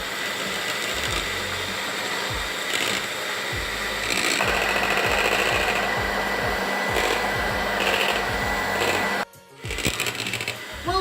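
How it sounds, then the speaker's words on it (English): An electric whisk whipping aquafaba, a loud steady motor whine with a rhythmic churning pulse that grows more intense partway through, cuts out briefly, then resumes. "Yes, it's actually whisking up."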